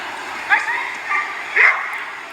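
Small dog yipping and barking in short bursts, three quick yaps spread over two seconds, close and fairly loud over a steady background hiss.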